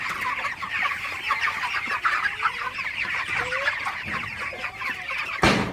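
Broiler chickens on a farm, about a month old, cluck and chirp in a busy flock, steady and close, with several overlapping calls and a brief knock near the end.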